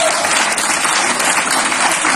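Loud, sustained applause fills the room at a stand-up comedy open mic night in Bydgoszcz, dense clapping from a close audience that holds steady throughout.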